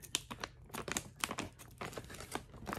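A green coffee storage bag, an Ecotact Troiseal, being folded and cut open: close, crisp crinkling of the bag material broken by sharp snips and rustles in an uneven rhythm.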